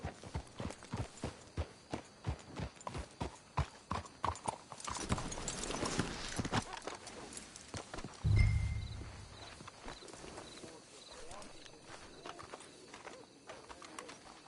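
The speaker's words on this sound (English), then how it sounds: "Let's hitch the horses up ahead." Horses' hooves clip-clop in a steady walking rhythm in the Red Dead video game, close and clear at first, then fading under ambient noise, with a brief low thump partway through and faint birdsong in the background.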